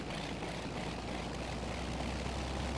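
The motor of a model 1930s French Air Force plane runs at a steady, even buzz with a low propeller drone, fairly faint and continuous with no voices.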